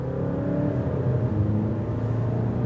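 A Volkswagen Tiguan 2.0 TDI diesel accelerates hard from a launch, its engine drone climbing in pitch as a steady, fairly loud whirring rumble heard from inside the car.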